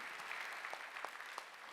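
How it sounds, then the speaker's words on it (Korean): A church congregation claps together at a Wednesday worship service. A steady, fairly faint wash of many hands clapping goes on for under two seconds. "박수야."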